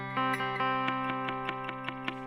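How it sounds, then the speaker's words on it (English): Guitar chord with two muted strings, strummed repeatedly in an even rhythm, close and moderately quiet, each strum a short percussive attack over ringing notes, with no talking. "So two notes are muted there."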